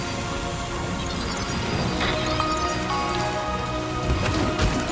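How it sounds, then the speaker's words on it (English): Rain in the video game Death Stranding 2: a dense, steady downpour pattering on surfaces, loud and continuous throughout, with no talking. "Rainy."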